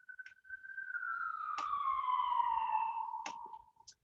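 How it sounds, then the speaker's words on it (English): An emergency vehicle siren on a downtown Dallas street sounds a single long, falling wail that fades away, with faint traffic noise underneath and no talking. "there's always ambulances and fire trucks"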